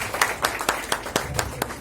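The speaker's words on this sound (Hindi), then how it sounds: "जोरदार तालियां।" Audience clapping at an award ceremony, a thin scatter of separate hand claps at an uneven pace, moderately close and fairly quiet, with no talk over it.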